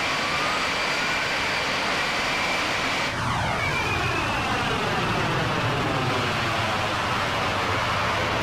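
A propeller airplane drones loudly and steadily overhead, its engine tone sweeping in pitch as it passes, continuous and alone throughout.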